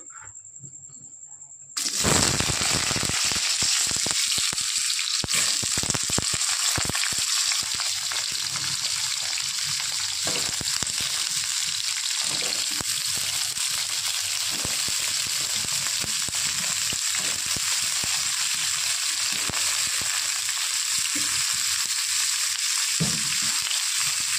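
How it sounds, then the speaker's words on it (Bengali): Potatoes and pointed gourd drop into hot oil with dried red chilli and bay leaves, bursting into a loud, steady close-up sizzle with crackling pops that runs on for about twenty seconds. "তেল ভালো মতো গরম হয়ে গেছে, সোমবারটাও লাল হয়ে এসে এবার দিয়ে দেবো আলু আর পটল।"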